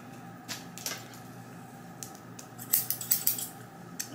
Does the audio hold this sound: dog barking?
no